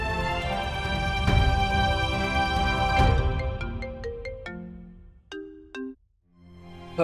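A phone ringtone plays loudly for several seconds as a rich melodic tune, then breaks into short stabbing notes with gaps before falling silent and resuming briefly.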